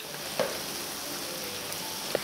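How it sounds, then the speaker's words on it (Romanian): Doughnuts frying in oil over medium heat give a steady, soft sizzle with a couple of faint pops, fairly close and without talk. "Și prăjim așa toate gogoșile."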